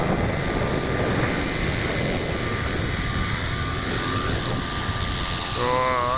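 An Align LH-450 RC helicopter with flybarless setup flies outdoors in wind, its steady high-pitched rotor and motor whine continuous and fairly loud throughout, with a brief voice near the end.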